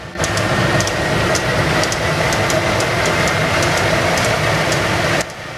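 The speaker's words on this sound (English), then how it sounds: "The Westinghouse J34, company designation Westinghouse 24C, was a military-grade turbojet engine." A Westinghouse J34 military turbojet, also called the 24C, runs as a steady, loud broadband roar with faint rhythmic ticking on top, holding level for several seconds before cutting down near the end.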